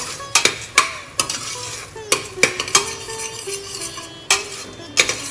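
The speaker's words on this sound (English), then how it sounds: "Mix it and fry it along with everything else in the gingery oil" Urad dal and rice are stirred and fried in gingery oil, with loud, close clinks and scrapes of a metal spoon on the pot sounding in irregular bursts over a quieter sizzle, and no one speaking.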